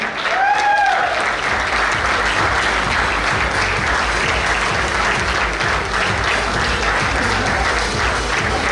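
Audience at a cricket conference award banquet breaks into sustained applause, loud, dense clapping filling the room evenly from start to finish with no speech over it.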